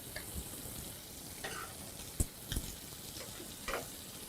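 Lamb cooking gently in a pan over low heat, a soft, steady sizzle with a few light ticks and taps from the pan, quiet and close, no voices.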